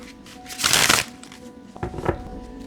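Tarot cards are shuffled in two quick riffling bursts, a longer crisp flutter followed by a shorter one, close and fairly loud with quiet gaps around them.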